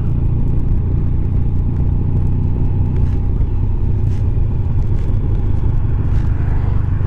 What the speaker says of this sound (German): da kommt das Auto?